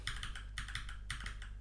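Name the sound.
typing dd on a computer keyboard in Vim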